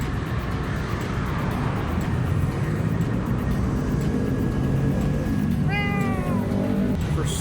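At a busy wet market in Khlong Toei, Bangkok, a voice imitates a cat's meow with a short rising-falling wail near the end, over constant loud traffic and crowd hubbub.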